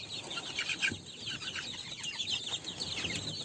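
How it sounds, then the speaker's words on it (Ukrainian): Legbar hens clucking softly in a coop, a steady murmur of small clucks and chirps with a few brief louder calls over a hissy background. "Ось, бачите, курочки легбар."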